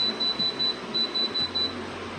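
An Arctic Wind portable air conditioner beeps as its timer button is pressed repeatedly, giving eight short, evenly spaced electronic beeps over a low hum, with no talking.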